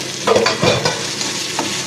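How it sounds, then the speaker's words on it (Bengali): Chopped vegetables and peanuts for poha being stir-fried in a pan, with a steady sizzle and a few scraping stirs of the spatula through the pieces, up close and with no talking. "এবার এগুলোকে হালকা করে ফ্রাই করতে হবে"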